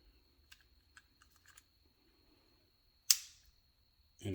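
A car key fob's plastic casing snapping back together after a battery swap gives one sharp, close click, followed moments later by a second fainter clack, with only soft fiddling noises before it.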